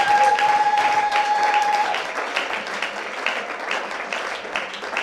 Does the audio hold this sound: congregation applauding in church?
yes